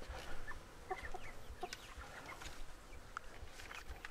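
Imported chickens on a farm cluck in short, scattered calls at moderate distance, with a few louder squawks over outdoor background noise.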